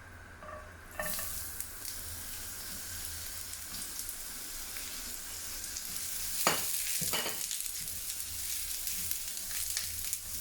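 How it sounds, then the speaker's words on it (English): Onion stir-frying in oil in a pan gives a continuous sizzle, with a few sharp scraping strokes of the spatula, and no one speaking. "So I will stir fry the onion first until it is soft."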